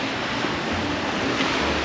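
Ocean waves breaking on the white-sand shore of Playa Costa Verde beach, a constant broad roar with some wind buffeting, close and loud.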